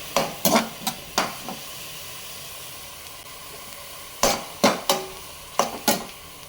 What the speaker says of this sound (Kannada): ಒಂದು ಅರ್ಧ ಸಣ್ಣದಾಗಿ ಕಟ್ ಮಾಡಿಕೊಂಡು ಬ್ರೊಕೋಲಿ ಹಾಕ್ಕೊಂಡು ಫ್ರೈ ಮಾಡ್ಕೋಬೇಕು.